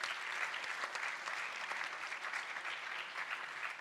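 Audience at a painting prize award ceremony in Mestre clapping for the patrons, a steady, even burst of applause throughout with no talk over it.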